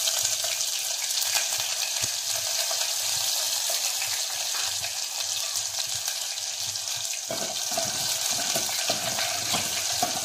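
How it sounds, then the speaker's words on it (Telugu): Chopped onions fry in hot oil with mustard seeds in a home kitchen, giving a continuous crackling sizzle close by with faint stirring clicks throughout. "ఎర్రగడ్డలు కొద్దిగా గోల్డెన్ బ్రౌన్ అయ్యాక"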